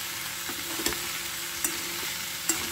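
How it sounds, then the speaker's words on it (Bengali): Mixed vegetables and chicken are stirred in a hot pan, a soft, even frying hiss with a few light, spaced clacks of a utensil against the pan. "সব রকম সবজিগুলো দিয়ে এবার জাস্ট একটা নাড়াচাড়া দেব"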